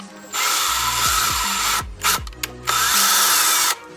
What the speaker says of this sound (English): After you get your holes drilled